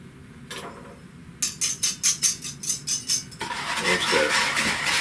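Bulgogi marinade of sugar, garlic and oil stirred in a bowl: a quick, rhythmic run of about nine close metallic clinks, followed by a softer, steady rustling mix.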